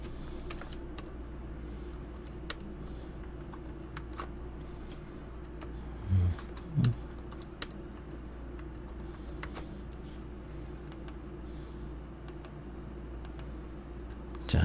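Typing on a computer keyboard while entering an email address during account setup, steady light key clicks over a low room hum, with a couple of brief louder clicks midway.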